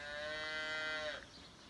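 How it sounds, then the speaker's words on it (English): A cow moos once in a long, drawn-out call from a field beside a Normandy memorial to the 101st Airborne's Easy Company, fairly clear against quiet outdoor air before fading. "with a little bit of cow mooing as well"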